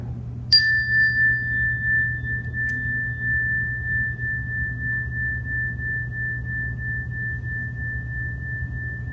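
A single meditation chime is struck once, giving a clear bright ring that sustains and slowly fades over many seconds against a steady low room hum.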